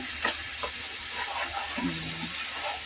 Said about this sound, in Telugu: అల్లం పేస్ట్ బాగా ఎర్రగా వేగాలి ఫ్రెండ్స్ ఆయిల్లో